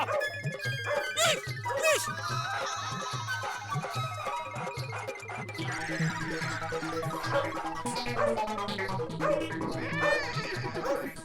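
A dog barks repeatedly in a Hindi TV comedy scene where people scatter, with its barks mixed among music, commotion and voices.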